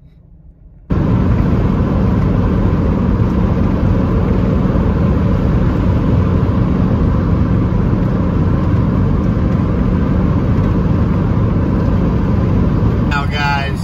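A 1973 Ford Mustang convertible cruising at highway speed, its engine and road roar steady, loud and continuous from close inside the car, with wind buffeting throughout.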